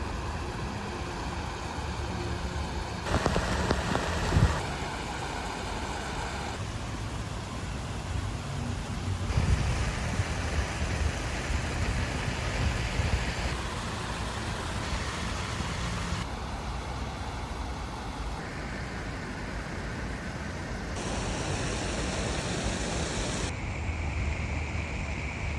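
Heavy rain drums without a break on a Nemo Aurora 2 tent, a dense, roaring wash with wind that rises and falls in loudness over about half a minute.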